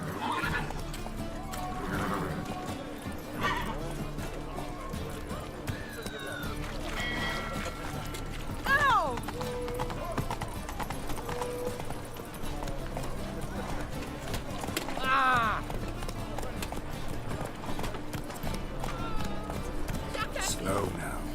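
A horse in a video game neighs and whinnies repeatedly over rhythmic galloping hoofbeats, the calls rising clearly around the middle and again later, with character speech running throughout.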